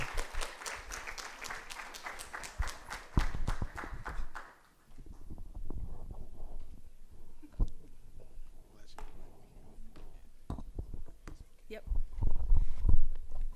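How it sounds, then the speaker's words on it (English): A church congregation applauds in a burst of dense hand clapping that fades after a few seconds, followed by quieter room noise, shuffling and scattered talk. "Let's give a hand clap of praise"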